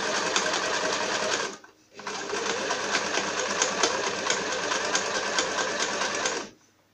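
A sewing machine stitches along a marked line on a fabric pouch, a loud, rapid mechanical whirring that stops briefly, then resumes for several seconds after a reverse-and-forward pass before halting.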